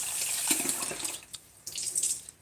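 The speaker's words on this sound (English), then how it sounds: "wetting a cloth here so I can just take and remove all this" A kitchen tap runs steadily while a cloth is wetted under the stream, with a splashy hiss that dips briefly partway through before the flow picks up again.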